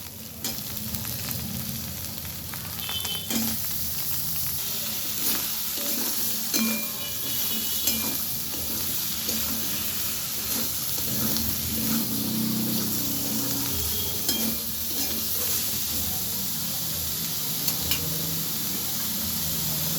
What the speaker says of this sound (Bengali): মশলাটা আমি খুব ভালোভাবে ভেজে নিয়েছি। এবারে আমি ঝিঙেগুলো দিয়ে দিচ্ছি।